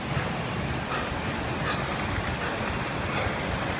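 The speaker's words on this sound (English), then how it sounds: "There's Mike shaking the train like a hooligan." A railroad car at a train museum is shaken by hand, giving a steady, dense rattling and clattering of metal throughout, close and fairly loud with no pauses.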